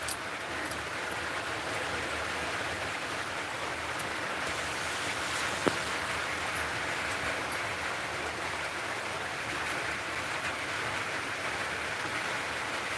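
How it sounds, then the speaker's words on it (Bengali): Heavy rain pours steadily onto a soaked rooftop, a constant dense hiss of falling water with a few sharper drips, steady and moderately loud with no voices. "আমাদের কাছে প্রচণ্ড বৃষ্টি হচ্ছে"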